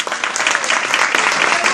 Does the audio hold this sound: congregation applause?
yes